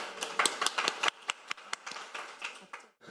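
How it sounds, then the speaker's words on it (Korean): Clapping from a small audience at a Korean healthcare innovation forum as a hospital geriatrics professor is welcomed to present on medical AI, sparse and distinct hand claps rather than a full roar, stopping briefly near the end. "그럼 여러분 대표님을 큰 박수로 맞이해 주시기 바랍니다."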